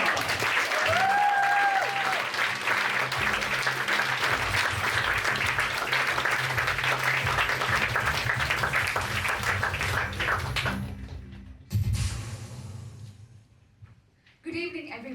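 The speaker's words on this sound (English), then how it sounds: "And now once again, huge applause for Swati Krishna Reko Kumar." Sustained audience applause at a science slam in Villach fills most of the stretch, loud and dense, fading out near the end before brief talk and a short burst of clapping return.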